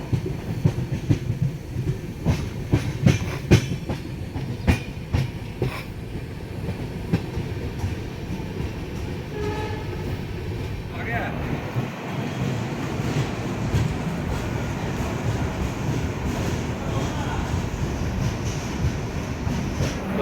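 The 22503 Vivek Express runs on its tracks near Alipurduar, a continuous heavy rumble with rhythmic wheel clicks and clanks lasting about twenty seconds, close and steady, with no voices.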